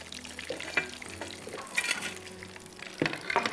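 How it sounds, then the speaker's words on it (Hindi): Chicken cordon bleu frying gently in oil over low heat, a soft, quiet sizzle with occasional clinks and scrapes of a utensil against the pan, no talking. "इसको बहुत हल्के पे तलना है।"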